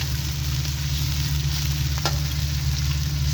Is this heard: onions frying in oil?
yes